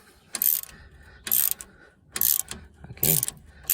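A hand ratchet spins out previously loosened rear brake bolts on a 2012 Range Rover Sport SDV6, giving four distinct bursts of rapid clicking separated by short pauses, close and clear with nothing else heard.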